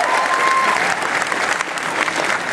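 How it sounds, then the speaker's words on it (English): A convention audience gives a dense, loud round of applause that carries on throughout, many hands clapping at once and easing slightly toward the end. "So a big round of applause for you guys."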